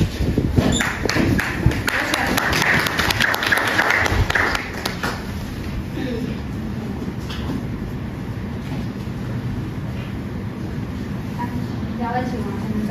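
An audience at a prize ceremony claps for the first-place winner. Dense, loud applause fills the first few seconds, then drops away to a quieter room with voices speaking.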